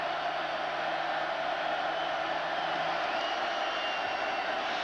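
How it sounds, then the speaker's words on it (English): Steady roar of a college football stadium crowd on third down at an Oregon Ducks home game against Utah State, a dense, even wash of noise with no clear peaks, faint and continuous. "Crowd's making a lot of noise here on 3rd and 4."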